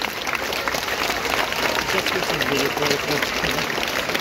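Audience applause at an outdoor festival, a dense, steady wash of clapping from a crowd, loud and sustained throughout, with voices mixed in.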